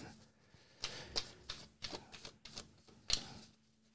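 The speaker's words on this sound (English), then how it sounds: "just going to go a little bit further with the shuffle here" An Archeo tarot-style card deck being shuffled, a run of quick crisp riffles and soft slaps with short pauses between bursts, close and fairly quiet.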